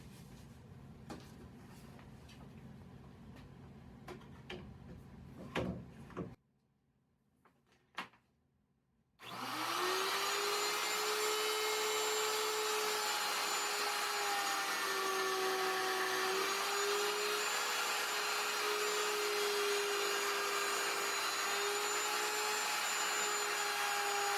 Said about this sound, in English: The plunge router has already got this upchuck or upcut bit positioned in it, so it's ready to go.